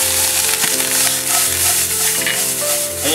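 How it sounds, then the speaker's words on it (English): White onions and minced green peppers sauté in a lightly oiled pan, a loud, even sizzle held steady throughout, with soft sustained tones running underneath. "first we're gonna add the white onions and the minced green peppers"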